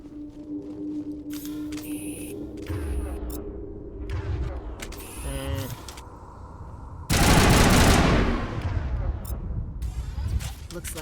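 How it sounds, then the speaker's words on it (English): Heavy shotgun blasts from the Mass Effect video game, a loud broadband burst around the middle followed by scattered shots and combat noise, with game voices speaking over parts of the scene. "With my shotgun."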